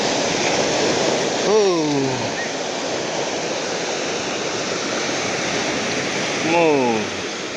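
Rough sea waves on the Andhra coast keep up a steady, loud surf roar, with two brief chirping calls rising over the wash.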